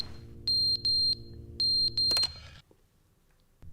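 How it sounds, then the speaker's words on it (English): A fire alarm goes off indoors with four loud, piercing electronic beeps in two pairs, each beep held for about a quarter second. A short clatter follows, then quiet. "Somebody needs to turn off the... why do I want to say fire hydrant? That's not what that is. Fire alarm."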